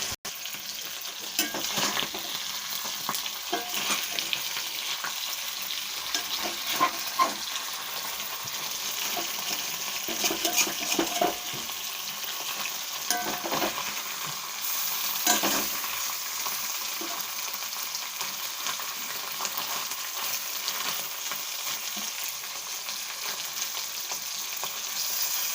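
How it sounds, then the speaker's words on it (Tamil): Dried fish (nagara karuvadu) crisps as it fries in a little oil in a pan, a steady close sizzle with frequent scraping stirs and crackles throughout, with no speech. "நல்லா மொறுன்னு நல்லா வந்து பொரிஞ்சிடணும் கருவாடு."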